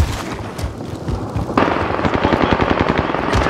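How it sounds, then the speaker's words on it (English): A precision airstrike in Call of Duty: Warzone on the Fortune's Keep map, heard as rapid bursts of explosive cracks and booms that jump to a denser, louder barrage halfway through, with no talking. "Enemy precision airstrike."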